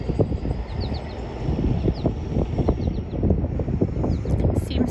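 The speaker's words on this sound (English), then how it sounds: "It's a bit windy, I'm sure." Wind gusting outdoors with a view over downtown, a steady low rumble buffeting the microphone, with faint bird chirps above it and no talking.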